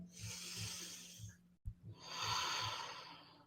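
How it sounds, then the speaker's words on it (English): Deep, slow breaths are taken during a yoga bow pose: a long airy inhale, a short pause, then another drawn-out breath, heard close and fairly soft. "Take 2 more breaths."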